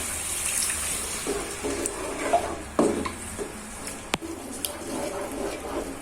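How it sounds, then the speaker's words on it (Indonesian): Water poured into a frying pan of tofu-and-egg rendang cooked without coconut milk, a steady broadband hiss with a few sharp clinks and scrapes from stirring, close by with no talk. "Dan ini akan saya kasih sedikit air."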